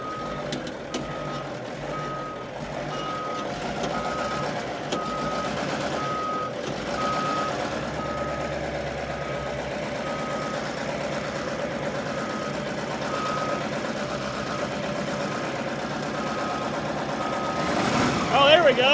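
A CAT military scraper struggles to reverse up a hill, its heavy diesel engine labouring at a low, steady drone while the backup alarm beeps in a regular pulse throughout, loud and close, and someone talks over it.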